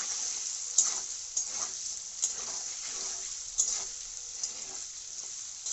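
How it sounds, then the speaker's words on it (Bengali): Potatoes seasoned with salt and turmeric fry lightly in a pan, a soft, fairly quiet sizzle broken by intermittent stirring clicks and scrapes, close by with no talking. "আলুগুলোকে 2 মিনিট মতো ভাজতে হবে"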